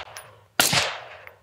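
A single loud, close gunshot through a B&T suppressor, with a deep thuddy report rather than a sharp crack that decays over about a second.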